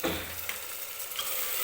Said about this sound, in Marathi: पावटा सुद्धा व्यवस्थित तेलामध्ये परतायचा आहे आपल्याला.